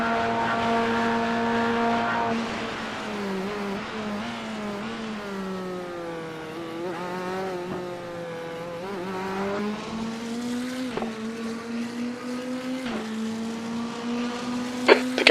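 A Corvette Z06 GT race car lapping Suzuka International Racing Course during the 2025 Suzuka 1000km, its engine heard from onboard, rising and falling through gear changes with sharp upshifts and brief lifts into corners, loud and continuous.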